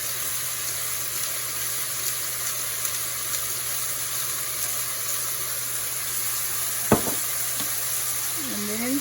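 Partly frozen chicken and vegetables sauté in a pan with a steady, even sizzle throughout, broken by a single sharp clack near the end and a light scrape just after.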